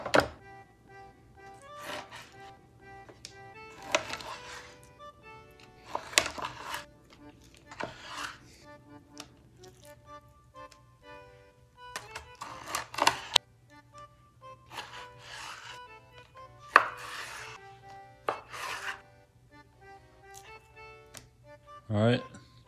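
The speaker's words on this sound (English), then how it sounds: "So now we're gonna cut this up into some steaks." A knife chops a freshwater drum fish into steaks, giving a series of separate firm thunks and cuts on a board, each followed by a pause and some faint handling noise.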